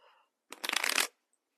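A single quick riffle of tarot cards being shuffled, a dense papery burst lasting about half a second, close and clear, with quiet rustling before it.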